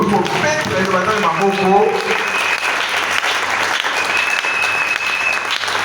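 A church congregation applauds, with steady, dense clapping filling the whole stretch and voices calling out over it at the start.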